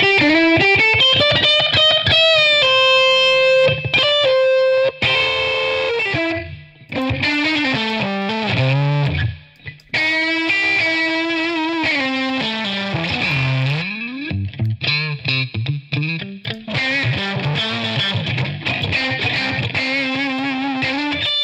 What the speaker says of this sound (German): Was ich jetzt mache, ist, dass ich den Drive richtig hochdrehe, dass wir einen ordentlichen Verzerrungsgrad hier haben